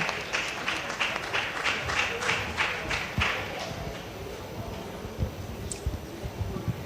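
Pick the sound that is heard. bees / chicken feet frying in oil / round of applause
round of applause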